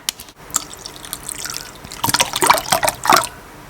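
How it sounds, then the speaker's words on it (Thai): Plain water poured into a clear-glue slime mixture, starting with a few light drips and then a louder, close, bubbling pour and trickle that lasts about two seconds, with no voice over it. "ให้เราใส่น้ำเปล่าลงไปค่ะ"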